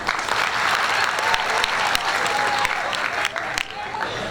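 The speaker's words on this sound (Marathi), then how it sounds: "तुमच्यासाठी एकदा जोरदार टाळ्या वाजवा." Loud, sustained applause from a live audience at a Marathi comedy stage event, dense clapping filling the whole stretch with a few sharper claps standing out near the end.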